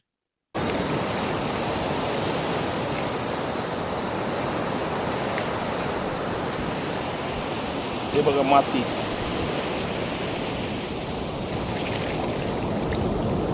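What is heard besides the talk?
sea waves on beach shore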